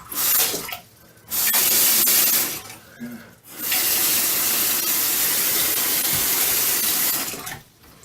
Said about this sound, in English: A little bit of water coming out somewhere.